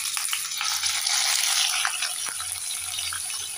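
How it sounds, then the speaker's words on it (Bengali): Shrimp frying in hot oil make a bright, close sizzling hiss with scattered crackles and pops, swelling briefly then settling to a steady fry, with no talking. "এবার আমি চিংড়ি মাছগুলোকে ভেজে নেব।"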